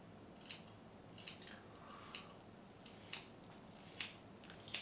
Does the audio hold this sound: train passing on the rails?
no